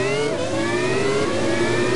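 Formula 1 race car engine from the F1 2001 game at Monaco, a steady high-pitched whine that holds and slowly shifts in pitch through the slowest corner, loud and continuous with no talk.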